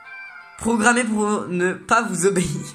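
A robotic cat emote in Fortnite gives electronic, meow-like voiced cries in two close bursts after a steady tonal hum, with a synthetic voice speaking over it.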